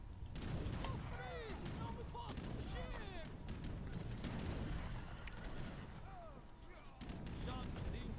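Mortar fire in a real-time strategy video game match, muffled booming shots and explosions mixed with chirping bird-like tones and game effects, steady busy battle ambience.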